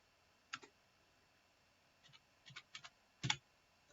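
Typing on a computer keyboard, quiet and close: a single keystroke, a pause, then a scattered cluster of several clicks ending in a louder double tap.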